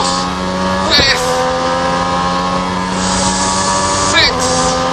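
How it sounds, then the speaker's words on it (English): A V12 race car engine accelerates hard through the gears toward 12,000 rpm on a track straight. The loud sustained roar climbs in pitch with two quick upshift breaks, while a voice talks over it. "But listen to that V12 chiming in."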